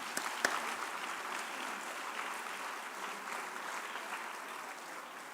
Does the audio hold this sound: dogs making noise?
no